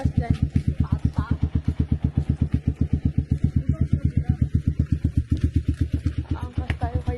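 A motorcycle carrying a pillion passenger rumbles along with a loud, fast, regular engine pulse throughout, close and steady, with people talking over it now and then.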